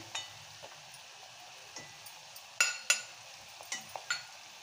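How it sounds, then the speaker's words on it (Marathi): Softened onion is sautéed with chili powder, turmeric and garam masala in a pan, with a faint sizzle under scattered metallic taps and scrapes of a spoon, close and quiet. "हळद, गरम मसाला हे सर्व परतवून घेते."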